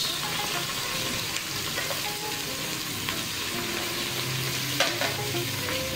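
Milkfish (bangus) fries in a little oil in a small pot, giving a steady, close sizzle and crackle throughout, with occasional faint pops and light stirring sounds and no talking.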